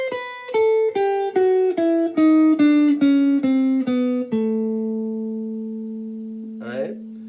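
A guitar picks a swing scale that mixes the blues scale with the major pentatonic, a descending run of about ten clean, evenly spaced notes, then a final note left ringing and fading, with a brief squeak near the end.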